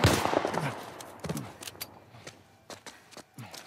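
Several sharp gunshots in The Last of Us Part 1 crack at irregular intervals, fairly close, after a short burst of noise at the start.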